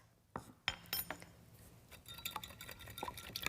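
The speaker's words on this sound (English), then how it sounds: "Whisk that together." A whisk clinks and stirs against a bowl while olive oil and red wine vinegar dressing with salt and pepper is mixed, a run of quiet, close, uneven metallic taps and scrapes.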